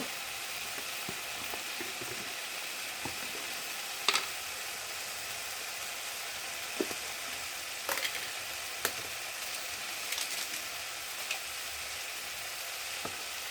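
Chili and coriander spice powders frying in a pan for an eggplant theeyal: a steady, close hiss of sizzling oil with occasional light stirring scrapes and taps, no talking.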